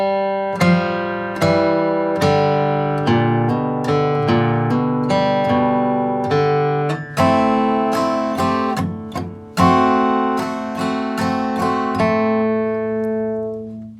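An acoustic guitar plays measures 6 through 9 of a tune in a bluegrass flatpicking style, a steady, clear run of bright picked notes with bass strings, close and solo without talk.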